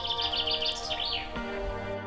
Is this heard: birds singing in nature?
yes